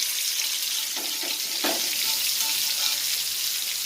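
Seer fish roasting in coconut oil in a pan, a loud continuous sizzle and fry with faint scraping touches, no voices.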